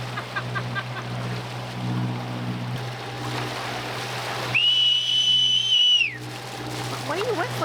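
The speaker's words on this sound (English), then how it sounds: "What are you whistling for?" A person whistles one sustained high note for about a second and a half over outdoor wind and water noise on a sailboat at sea.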